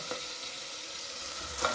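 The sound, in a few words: tomatoes sizzling in a pan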